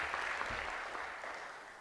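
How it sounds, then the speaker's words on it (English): An audience at a talk applauds in a dense, steady wash of clapping that slowly fades over a couple of seconds. "give them a round of applause"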